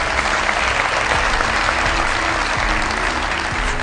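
Dense, steady applause from an audience at an Urdu-Hindi poetry (shayari) gathering fills about four seconds without a break, loud and close.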